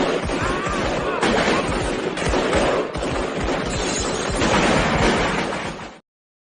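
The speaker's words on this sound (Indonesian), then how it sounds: "baku tembak pun terjadi." Gunfire in a crime-film shootout: dense, continuous bursts of shots and blasts fill the whole stretch, loud and close, with voices mixed in under the racket.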